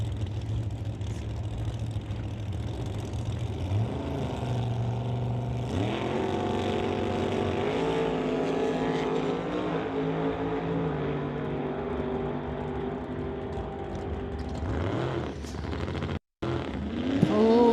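Door slammer drag race cars launching and running side by side at Canada West qualifying, a husband and wife pair, with loud sustained engine roar and rising pitch sweeps as they pull away, fading near the end.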